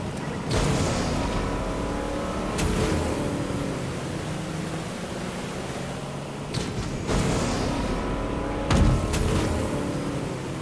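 A motorboat engine in the video game Fortnite drones loudly and continuously, with a broadband rushing hum and abrupt shifts and bursts as the craft moves.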